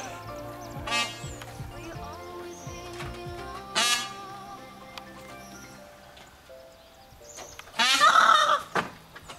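A peahen gives three loud, harsh, honking calls spaced a few seconds apart, the last one longest and loudest, over a quiet background with faint birdsong.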